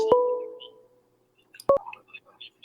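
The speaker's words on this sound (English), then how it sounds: "So, yeah, we got a phone call." A telephone call arrives on a live stream with two short electronic tones, separated by a gap of near silence, followed by faint bits of sound.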